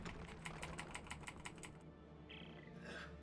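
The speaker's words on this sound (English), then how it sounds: "You're going to be hearing me tap the keyboard a lot." Rapid clicks of a computer keyboard, the W key tapped repeatedly during a Dead Space 3 speedrun, form a quick, close rhythmic burst that fades into quiet after about two seconds.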